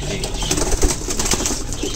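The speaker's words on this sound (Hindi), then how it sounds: "ये किंग कबूतर है" King pigeons coo softly amid a busy background of rustling and faint bird noise, with one brief louder thump midway.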